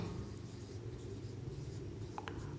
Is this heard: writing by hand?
yes